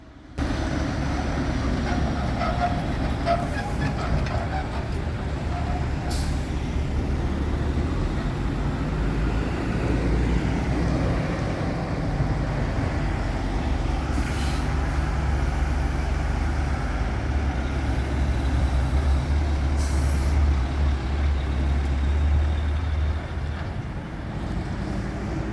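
A Norfolk Southern freight train of empty autoracks rolls past steadily for the whole stretch, a loud continuous rumble of wheels and cars with a low engine drone underneath and occasional clanks, and no voices.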